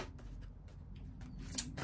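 Oracle cards from a Gaïa oracle deck are shuffled softly and close by in a quiet room, giving a run of brief papery riffles and taps.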